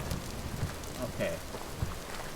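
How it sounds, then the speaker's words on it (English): Rain hisses steadily in the survival game Vintage Story, a soft, even wash of falling drops with a few low thumps and faint voice murmurs mixed in. "Am I getting away from the rain?"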